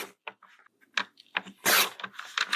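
Scissors cutting through a junk mail paper envelope, a series of short crisp snips and rasping slices up close, with a louder sustained cut near the end, no talking.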